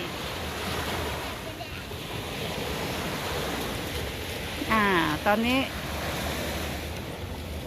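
Sea waves break steadily on the shore during a morning swim at the beach, with a constant roaring wash mixed with wind. A person's voice is briefly heard over the surf.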